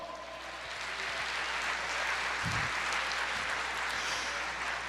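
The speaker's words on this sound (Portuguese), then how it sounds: "Aplauda, Senhor." A church congregation applauding during a sermon, a steady, continuous wash of clapping from a large crowd, fairly distant and even throughout.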